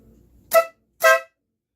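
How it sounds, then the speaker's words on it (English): Two loud, sharp air horn blasts, each about a fifth of a second, separated by a short pause, over a faint low rumble. "I've swapped out the regular horn for the air horn."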